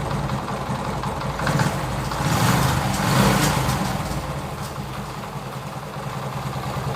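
A TVS XL100 moped engine idles steadily after a tappet adjustment, a smooth continuous close-range hum with a slight rise in the middle and no speech.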